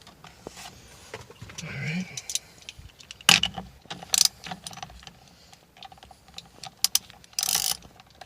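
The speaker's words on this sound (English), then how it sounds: "we need to put the nut back on first" Ratchet clicks in short bursts while a steering wheel nut is tightened on a BMW E46, with mechanical clatter and a few sharp metallic hits across the clip and some brief talk.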